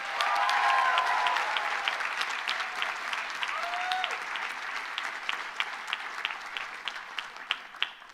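Commencement audience for psychology and cognitive and brain sciences graduates applauds award winners: steady, full crowd clapping that starts strong and slowly thins, individual claps becoming distinct toward the end, with no talk over it.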